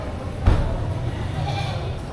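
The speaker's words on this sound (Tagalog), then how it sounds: "Itong tatlong kambing na to." Goats bleat at a busy livestock market where goats, cattle and carabao are sold, a single short call near the start standing out above steady crowd murmur and background chatter.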